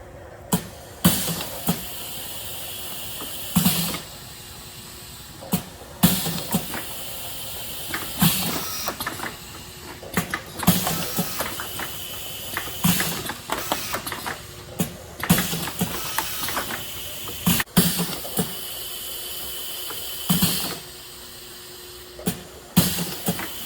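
A Geyer Fillmaster filling machine dry-running containers through its cycle: repeating pneumatic hisses and mechanical clunks and clicks in a regular rhythm, close and moderately loud, with no talking.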